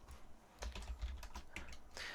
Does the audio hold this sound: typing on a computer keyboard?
yes